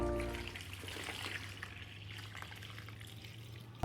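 Water is poured steadily into a bowl of flour while mixing sourdough, making a continuous close liquid pour and splash over a low hum, with no talking.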